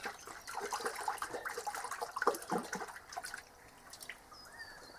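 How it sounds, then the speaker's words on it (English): Water splashes and gurgles as it is poured into a half-filled bucket to mix a weed spray solution, close and bubbly at first, then thinning to a quieter trickle. "I first mix the ingredient into a half a bucket of water"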